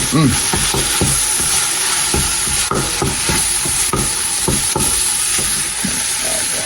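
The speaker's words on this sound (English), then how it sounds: "Stir it around." Chili ingredients sizzling loudly in a pot as they are stirred around, with repeated scraping and clinking strokes over constant frying hiss, close and continuous.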